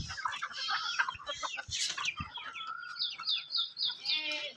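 Free-range village chickens clucking near and far, followed by a rooster's drawn-out crow rising toward the end, with scattered bird chirps around.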